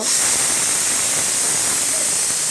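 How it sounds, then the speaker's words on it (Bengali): Pressure cooker cooking dal releasing steam in a steady, loud, broadband hiss that carries on unbroken throughout, with no voices. "এখানে আমরা রেখে দিয়েছি ডাল প্রেসার কুকারে"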